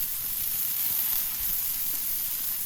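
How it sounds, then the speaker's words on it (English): Beef burger patties sizzle on an oiled griddle outdoors, a steady bright crackling hiss that stays even and close throughout with no voices. "Let's take it outside to sizzle these patties."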